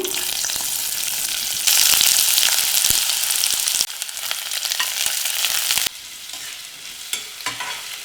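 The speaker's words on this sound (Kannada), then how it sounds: "ಒಂದು ಈರುಳ್ಳಿನ ಈ ರೀತಿ ಉದ್ದುದಕ್ಕೆ ಕಟ್ ಮಾಡ್ಕೊಂಡು ಹಾಕ್ತಾ ಇದ್ದೀನಿ" Long-sliced onion frying in oil in a pan, a bright steady sizzle with occasional stirring clicks and scrapes, shifting in intensity in a few abrupt steps, close up and without voices.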